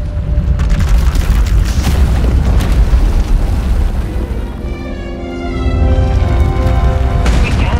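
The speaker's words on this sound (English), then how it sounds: "Her power is racing out of control. When it erupts, the entire asylum will be destroyed." A runaway Force power eruption destroys an asylum in Star Wars: The Old Republic, a loud, sustained booming rumble with tonal sci-fi effects layered over the blast.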